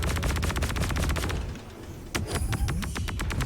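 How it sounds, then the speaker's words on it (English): Rapid bursts of laser pulse weapon fire in Star Citizen during a space fighter dogfight, loud repeated shots in quick rhythm, a brief lull, then more volleys with no talking. "let's try to hit him with my my lasers as well"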